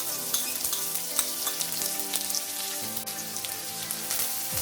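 Chopped onions fry in a pan over a medium flame while cooking dal makhani, giving a dense, continuous sizzle with small crackles and a few stirring clicks, close and steady with no talk.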